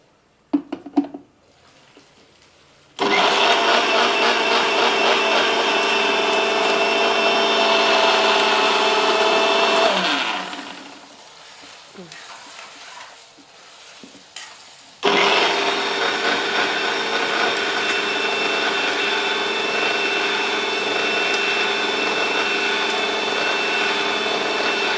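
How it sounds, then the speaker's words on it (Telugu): A mixer grinder grinds masala with a loud, steady motor whine that runs for several seconds, pauses with some rattling, then starts again and runs until the end. "గిట్లా మిక్సీకి వేసుకోవాలి."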